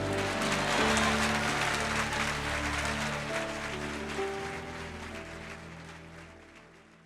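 A church congregation applauds during a Portuguese-language sermon, with broad, dense clapping that starts strong and gradually fades over sustained keyboard chords.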